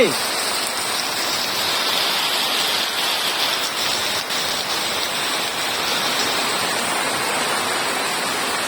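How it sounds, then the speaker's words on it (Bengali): Heavy rain pours down in a village, a loud, dense, even roar of water that runs without pause throughout. "আমাদের এখানে প্রচুর বৃষ্টি হতেছে"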